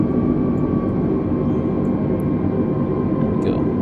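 An Airbus A320neo on approach to San Diego in a flight simulator gives a steady, loud engine drone with a low rumble and a faint tonal whine, unbroken throughout.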